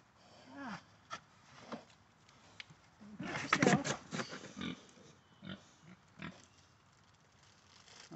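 A pet pig grunts and snorts softly at close range in short irregular bursts, with a denser run of grunts in the middle, the whole scene quiet with faint background noise.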